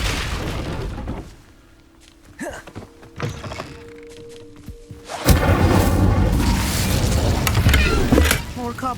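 A fire spell cast in the video game Hogwarts Legacy: after a quiet stretch of soft clunks, a loud whooshing burst erupts and keeps roaring and crackling for several seconds, filling the scene.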